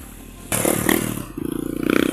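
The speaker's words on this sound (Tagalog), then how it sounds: "Yan ang mga motor. Papunta sa bundok. Malalakas yan." Motorcycles riding up toward a mountain in the countryside, their engines roaring in abruptly and loudly close by, then settling into a pulsing, rhythmic drone as they climb.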